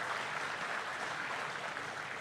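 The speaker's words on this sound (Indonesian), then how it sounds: "Kita berikan tepuk tangan buat beliau." An audience gives sustained applause for the President of Indonesia at a mass housing-subsidy signing event. The clapping is a steady, even wash heard from a distance.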